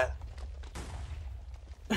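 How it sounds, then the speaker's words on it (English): A Minecraft explosion goes off as a single muffled blast with a short rumbling tail, fairly faint and brief against a quiet low background. "The explosion spawned right on us."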